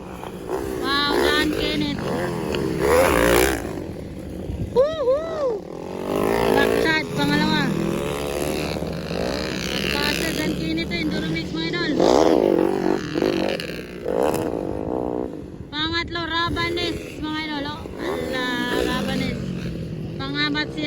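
Motocross and enduro motorcycles race in a final heat at a fiesta in Patag, Opol, with engines revving and whining up and down. Excited commentary talks almost continuously over the machines.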